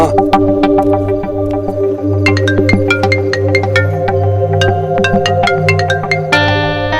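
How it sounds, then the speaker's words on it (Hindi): A phone ringtone plays a repeating electronic melody of bright tones, steady and fairly loud, with a low hum underneath and no talking. "फोन उठा यार, फोन उठा एलिना।"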